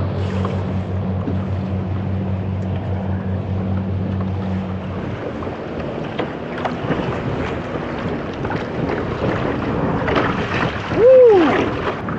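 Waves on a bay lap and wash around a fishing kayak in a steady broadband rush with wind buffeting the microphone, a low droning hum in the first few seconds, and a brief rising whistle-like sound near the end.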